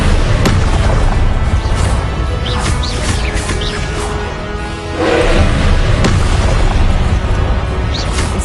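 Incendio fire blasts in Hogwarts Legacy, a run of loud booming bursts and crackling flares over continuous rumbling combat noise, close and forceful with a brief dip before the next blast.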